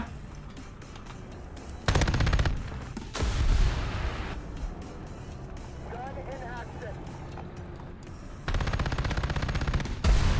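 An M3 Bradley in the tank game War Thunder firing bursts of loud cannon fire over a rumbling engine, with a quieter stretch between bursts and someone talking over it.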